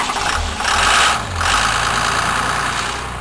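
Vehicle engine cold-cranking after a night of minus 15 degrees, then catching and settling into a loud, close, rough idle with a rattling knock and no voices.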